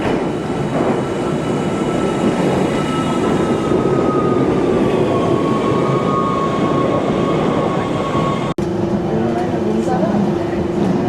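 Steady rumble and rattle of a moving train heard from inside the carriage, a dense continuous roar with a faint whining tone above it and a brief clunk near the end, with voices faintly beneath.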